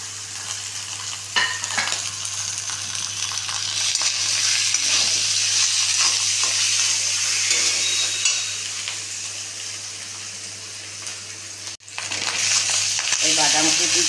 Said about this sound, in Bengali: এবারে লঙ্কাটা দেবো, আলুটা দেবো, দিয়ে এবার এটাকে নেড়ে চেড়ে পুরটা তৈরি করে নেব